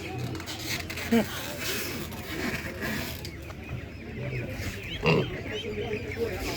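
Piglets at a market grunt and squeal now and then amid a noisy background of crowd chatter and mechanical rattling.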